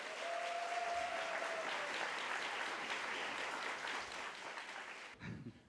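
An audience claps at the opening ceremony of a youth mock trial competition. The applause is a sustained, fairly distant wash with a brief whistle early on, then tapers off near the end.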